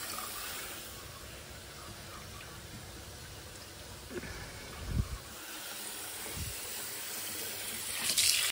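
Tap water runs steadily into a kitchen sink during an overflow test on a newly changed sink, a soft continuous gush with a couple of brief clunks partway through and no talking.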